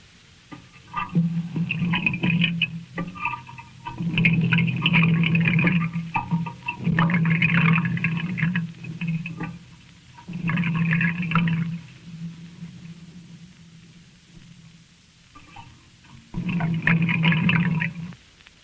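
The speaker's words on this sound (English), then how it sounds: "The way we made that one was to run some water through a piece of ordinary pipe and let the sound microscope listen to it." Water runs through an ordinary pipe, closely amplified for an eerie ghostly effect: a series of hollow, bubbling gurgle bursts, each lasting a second or two, separated by short quiet gaps.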